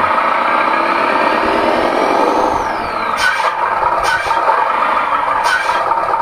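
Sound module in a handmade miniature RC Hino 500 truck playing a steady diesel idle in neutral, a close, continuous rumble with a faint rising whine and a few short ticks, no talk.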